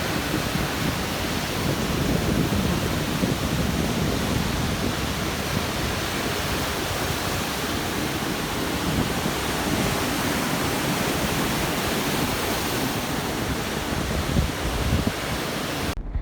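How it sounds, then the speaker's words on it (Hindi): Mediterranean Sea surf breaking on the coast at Alexandria beside a seaside restaurant, a loud continuous roar and wash of waves throughout, cutting off sharply at the very end. "ये जो वेव्स नज़र आ रही थी ना, और ये जो आवाज़ आ रही थी"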